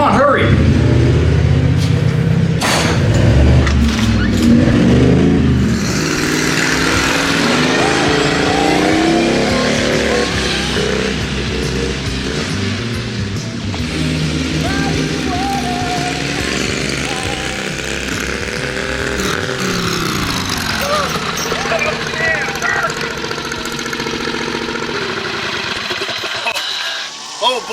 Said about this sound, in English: Oh boy, I love this tractor.